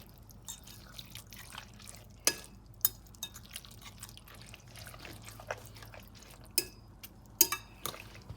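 A meat and chard pie filling mixed in a bowl, giving faint wet squelches and scattered soft clicks and taps from the utensil against the bowl, with no one talking.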